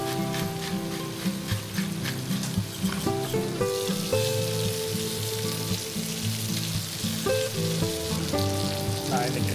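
Chicken sizzling in a pan with coriander and cumin, a steady loud frying crackle with occasional stirring scrapes and bursts.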